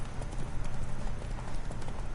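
Horse hooves gallop in The Witcher 3 during a race, a fast steady clip-clop rhythm of rapid, close, loud beats with faint game ambience beneath.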